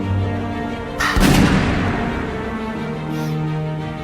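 A single sharp gunshot cracks once in a dramatic movie scene, a loud close blast that decays quickly over a sustained musical tone.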